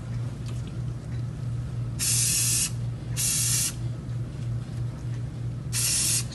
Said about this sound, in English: I like to do it with the guards, spray them down, front and back.